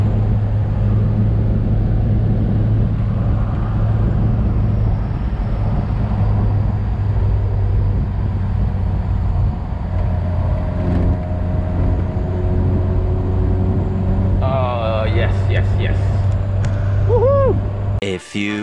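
A 1996 Fiat Punto Cabrio with a 1.6i engine drones steadily from inside the cabin as it is driven on a road, holding a loud, continuous low hum with mild revving changes and some rising whines near the end.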